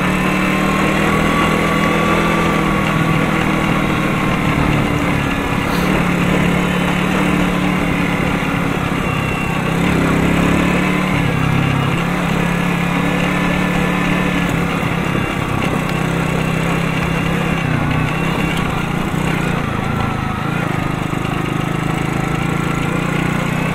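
Renault Kaptur engine driving in second gear on a slippery northern road trip: a continuous droning engine and road rumble heard from inside the car, steady and fairly loud with no talking.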